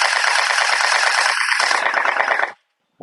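CELOSIA M416 gel ball blaster firing in one continuous rapid-fire burst, a dense loud mechanical buzz and rattle lasting about two and a half seconds before cutting off abruptly into silence.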